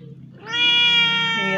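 A thin, sick domestic cat lets out one long, loud, close crying meow that rises and holds steady after a short quiet start.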